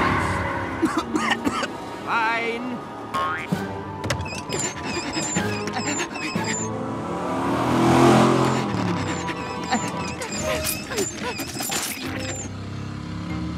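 A cartoon car race on a jungle road, with an engine revving and swelling to a loud rush about midway through. It plays over busy music and effects, with no voices.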